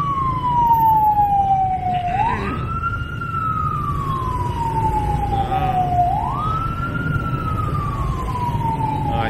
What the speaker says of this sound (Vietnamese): Và có xe cấp cứu rồi, chúng ta dừng lại đi ha,